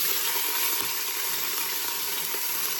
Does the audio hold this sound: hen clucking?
no